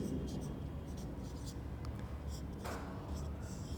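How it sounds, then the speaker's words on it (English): Someone writes on a board with faint, scratchy strokes in short bursts over a low room hiss. "Okay, so I am going to write it down here."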